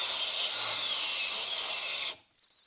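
A power tool grinds and dresses welded patch panels on the roof of a 1986 Chevrolet Monte Carlo SS, a loud continuous abrasive whine that cuts off abruptly near the end.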